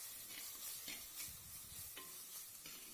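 Garam masala being stirred into sautéed tomato and onion in a pan for a vegetable white kurma, with a soft scraping and stirring over a faint, steady sizzle, close and moderately quiet, no talk.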